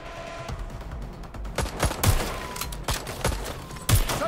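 Rapid bursts of gunfire from a firefight in Watch Dogs: Legion, loud and dense, with repeated sharp shots over several seconds.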